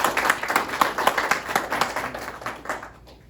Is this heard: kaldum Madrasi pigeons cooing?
no